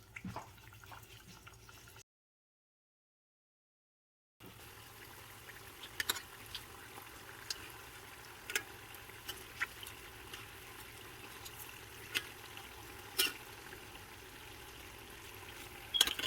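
Yufka pastry frying in hot oil, heard as a soft, steady crackling sizzle with scattered small pops. It starts after a brief silent gap and runs quietly throughout.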